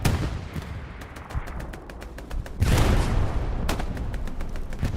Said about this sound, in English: Artillery strikes coming on the front line.